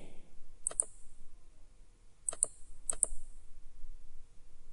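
Computer mouse clicks while antivirus software is installed: three sharp double clicks, spaced apart in a quiet room, crisp and close.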